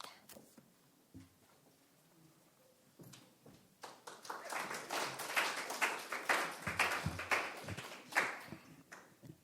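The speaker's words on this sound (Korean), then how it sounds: "강대상에 서서 박수 받기는 처음인 것 같습니다." A church congregation applauding a pastor standing at the pulpit: scattered claps and taps at first, then a fuller round of clapping from a moderately distant crowd that swells and continues to the end.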